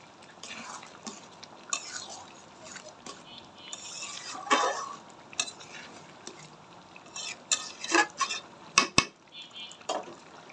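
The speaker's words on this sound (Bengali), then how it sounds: "একটু নাড়া দিয়ে দেবো।" Meat with torn green chillies being stirred in a pot for biryani, with irregular clinks and scrapes of a spoon against the metal pot, soft wet sizzling between them and louder clatters near the end.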